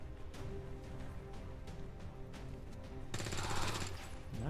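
Bursts of gunfire from XCOM 2: War of the Chosen crackle in several short, sharp volleys, followed by a denser, louder stretch of shooting and impacts near the end.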